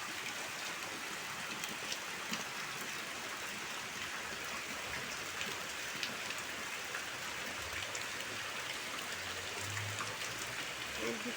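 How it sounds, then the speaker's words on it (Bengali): Heavy rain pours steadily onto a flooded courtyard, a dense, even hiss of falling water with no letup, heard alone without talk. "প্রচুর বৃষ্টি হচ্ছে"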